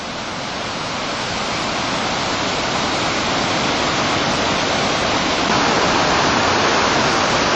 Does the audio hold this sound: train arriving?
no